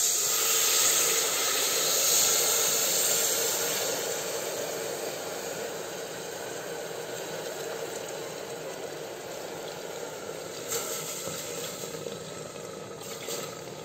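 Water poured into a hot pot for jatoba bark tea hisses and steams loudly and continuously, a broad sizzling rush that eases slightly but keeps going throughout with no talking.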